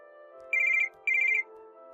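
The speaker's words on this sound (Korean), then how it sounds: "다음날 전화." A phone rings in two short bursts of rapid trilling electronic tones separated by a brief pause, clear and close in a quiet room with no voices.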